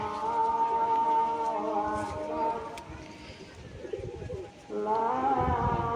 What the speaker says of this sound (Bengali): দেখুন দেখুন দুটো জিরিয়া পায়রা জোড়া আছে